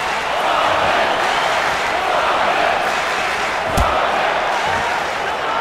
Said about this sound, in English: the cheers in here are deafening